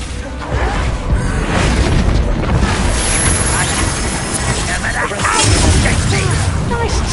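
Spell explosions from Hogwarts Legacy, Confringo and Bombarda blasts, booming and crackling in a dense, loud, continuous game battle mix with a voice speaking over it.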